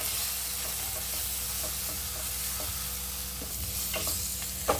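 Turmeric, chili, coriander and garam masala powders sauté with tomato in a pan, giving a steady close sizzle with a few soft scraping stirs near the end and no talk.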